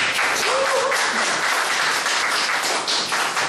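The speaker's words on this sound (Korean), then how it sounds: "박수" A lecture audience of about 1,600 bursts into dense, sustained applause, loud and close, filling the hall without speech.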